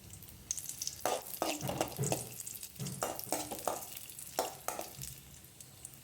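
Raisins being sautéed in ghee for kabsa, a soft sizzle punctuated by a series of clattering stirs and scrapes of a spoon in the pan.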